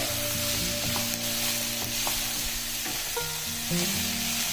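Masala for a chicken roast fries in a pan, a steady sizzle with scraping stirs and clinks of the spoon against the metal, close and alone.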